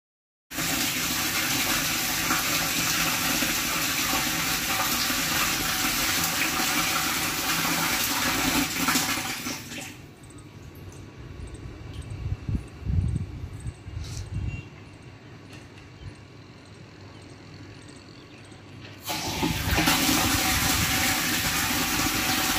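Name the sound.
water flowing into a water tank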